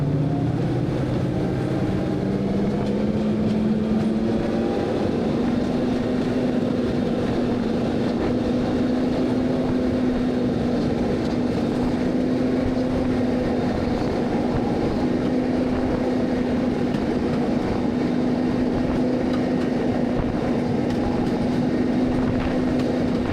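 British Rail Deltic diesel locomotive D9015 (later 55015) running, a loud steady diesel drone with a rising engine tone that settles into a sustained hum, heard alone with no talk.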